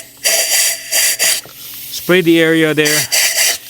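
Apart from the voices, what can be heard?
spraying compressed air on engine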